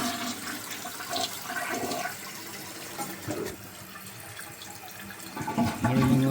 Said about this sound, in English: I'm gonna flush this, see how it...